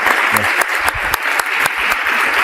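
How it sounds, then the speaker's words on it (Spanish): Sustained audience applause fills a room at a book presentation, with dense, steady clapping from a crowd. "pido un fuerte aplauso para Nicolás Márquez."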